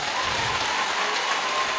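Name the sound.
applause for Joe Nyoto at an ordination ceremony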